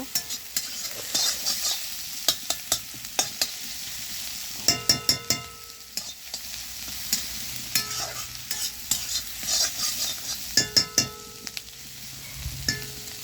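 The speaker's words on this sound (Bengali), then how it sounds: "হালকা আমি একটু ভাজবো এগুলোকে হালকা ব্রাউন করব" Vegetables fry in a pan over a wood-fired stove, a steady sizzling hiss broken by repeated scraping stirs and a few clustered clinks of utensil against pan, close and moderately loud with no talking.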